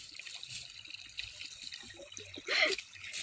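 Cool water trickles and drips in small irregular bursts, with a brief louder splash near the end. The sound is fairly close and stays quiet throughout.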